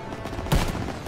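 A single loud, close sniper rifle shot fired in Call of Duty WW2 during a farm mission, a sharp boom with a short echoing tail over faint battle ambience.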